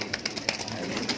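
Oriental shirting fancy pigeons in a loft give a short run of soft, throaty coos, close and moderately loud.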